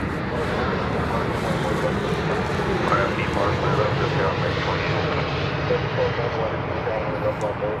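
An American Airlines airliner arriving at DFW Airport from Albuquerque, New Mexico, sends out a loud, sustained jet engine roar, a steady broadband rush with no pauses.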